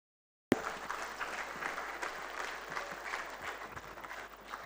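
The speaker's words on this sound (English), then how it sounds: "Can we give a big round of applause to the people" A conference audience at the 12th Merck Foundation Africa Asia Luminary breaks into a big round of applause, starting abruptly after a brief silence and holding steady as dense, close clapping.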